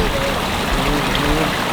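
Water flows steadily through a deep man-made stream that feeds a backyard pond and waterfall, a continuous close rushing wash with no break.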